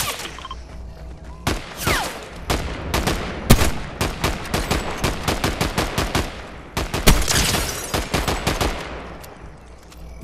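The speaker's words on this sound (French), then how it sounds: "Il est là, il me snipe." Gunfire from a sniper fight in the video game Fortnite: loud, sharp shots cracking in quick irregular runs, one after another, with no talk.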